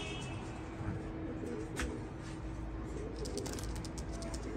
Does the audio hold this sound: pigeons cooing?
yes